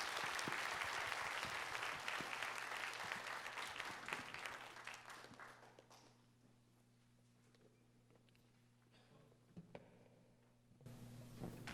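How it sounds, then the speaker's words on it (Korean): A church congregation claps for the worship team, with sustained applause that starts loud and close, fades to a lull, then picks up briefly again. "여러분 큰 박수로 좀 격려해 주시겠습니까?"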